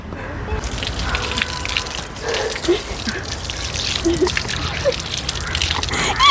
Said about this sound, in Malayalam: അപ്പോൾ നമുക്ക് കവറിൽ വെള്ളം നിറയ്ക്കാം വാ